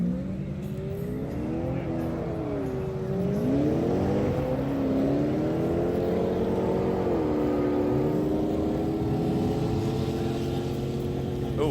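A Mercedes-AMG accelerates hard down a half-mile race strip, its engine note rising and shifting in loud, sustained roars with gear changes, heard over crowd voices and chatter.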